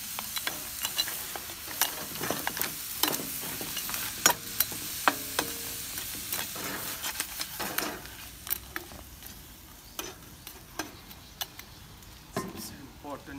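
Crab tandoori masala being stirred in a pan: a spoon scrapes and clacks against the metal in uneven bursts over a steady low sizzle, close and fairly quiet, with brief talk in places.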